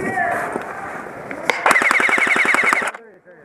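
Airsoft guns fire during an outdoor skirmish in a village, with a few single pops and then a rapid automatic burst of about a dozen close, loud shots before it cuts off.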